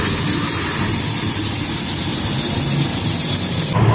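A Honda Brio car engine runs during carbon cleaning, a loud, steady roar and hiss that continues unbroken, with a slight change right at the end.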